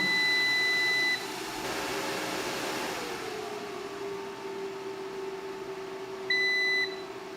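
A Volt Polska Sinus Pro Ultra 6000 hybrid inverter under repair gives a steady electronic beep as it is switched on again, then a low hum continues, and a second short beep follows near the end.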